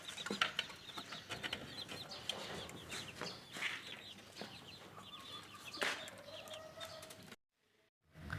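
About a month old, broiler chickens cluck and chatter together in a farm coop. The calls are soft to moderate and overlap steadily, then drop to near silence for a moment just before the end.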